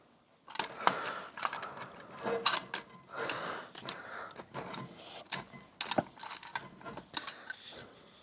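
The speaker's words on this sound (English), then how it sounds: "I'm just pressing the cylinder back in to get the pads in when it comes time." A brake caliper piston on a Mk3 Toyota Supra is pressed back in with a tool, giving irregular metallic clicks, ratcheting taps and scrapes close by at moderate volume.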